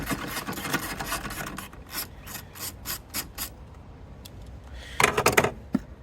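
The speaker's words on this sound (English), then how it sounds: "To install the intake, we need to remove this bolt from the fuse panel." A bolt on the fuse panel of a Hyundai i30N is worked loose during a cold air intake install, giving a steady run of close ratchet clicks and scraping metal, followed by a brief louder burst of clicking near the end.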